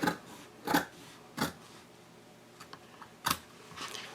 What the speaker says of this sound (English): So you'll take your scissors, and I like to just start with a little snip right down the center there